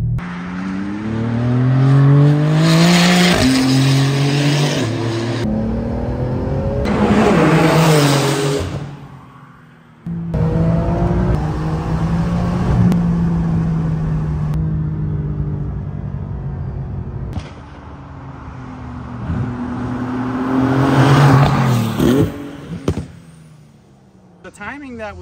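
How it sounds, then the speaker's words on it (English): Porsche 991.2 GT2 RS twin-turbo engine accelerating on the road, loud revving surges rising in pitch through several gear pulls, with brief lifts between them and a voice talking over the drive. "this is going to tell us exactly what's going on when we drive it"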